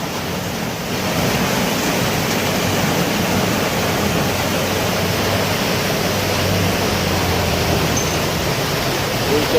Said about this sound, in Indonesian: Hujannya sangat lebat teman-teman.